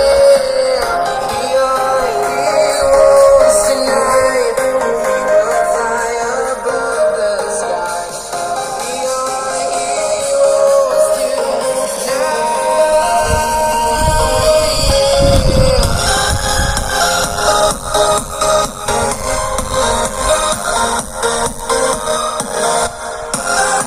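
Music plays continuously from a homemade Bluetooth speaker built from old earphones, moderately loud and steady throughout with a thin, midrange-heavy tone.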